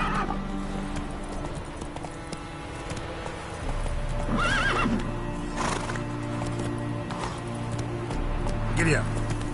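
In the Witcher 3 video game on a PS4 Pro, a horse's hooves clip-clop in a steady run while the horse neighs and whinnies a few times, with a voice speaking over the game audio.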